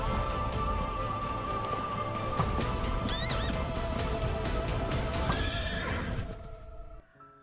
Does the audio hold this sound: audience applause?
no